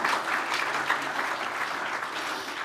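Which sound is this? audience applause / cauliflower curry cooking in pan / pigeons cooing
audience applause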